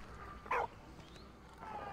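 A dog in Valiant Hearts gives a single short bark at night, quiet and somewhat distant, over a low ambient background with no talking.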